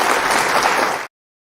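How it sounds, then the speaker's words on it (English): A burst of round-of-applause sound effect, dense crowd clapping played loud and steady for about a second before cutting off abruptly into silence. "I meant round of applause for your merrymaking."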